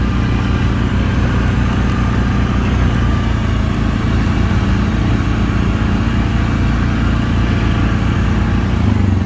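Can-Am Outlander 570 and Suzuki KingQuad ATVs drive along a trail, engines humming loud and steady at a constant throttle for the whole stretch, close up with no talk.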